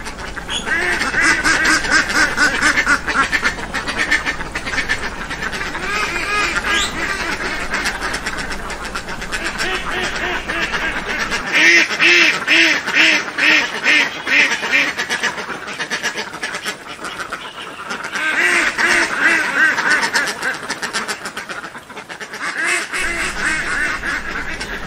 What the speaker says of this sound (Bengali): আমাদের এই মাদি হাঁসটা, ওর যে ভয়েসটা, শব্দটা আপনারা শোনার চেষ্টা করুন।